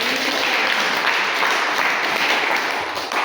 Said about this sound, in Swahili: Sumpe Yesu makofi.